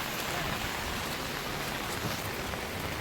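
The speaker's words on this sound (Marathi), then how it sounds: "पाऊस भरपूर चालू आहे, जोरात" Steady, dense monsoon rainfall in Lonavala, India, hisses evenly throughout, a loud continuous downpour with no voices and no breaks.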